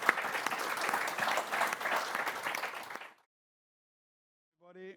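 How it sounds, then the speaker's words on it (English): Meeting attendees give a warm round of applause for the speakers, a fairly close burst of many hands clapping for about three seconds before stopping abruptly, followed by silence and then a voice beginning to talk. "Let's give a warm applause to the speakers."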